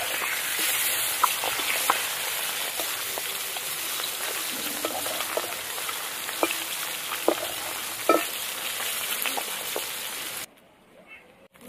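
Belly pieces of a large katla fish fry in hot oil in a pan, a steady close sizzle dotted with sharp pops and spits, which cuts off abruptly near the end.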